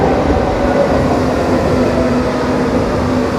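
A Berlin U-Bahn subway train pulls in with a steady, loud rumble and rail roar that fills the whole stretch, a faint wheel squeal running underneath, and no voices.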